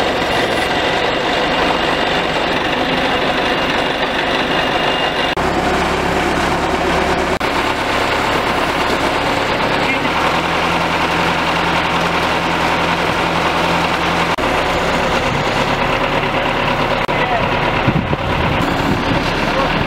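A loud drilling rig engine drones continuously, its pitch shifting in stages as it lifts drill rods from a water borehole, with a voice talking faintly underneath.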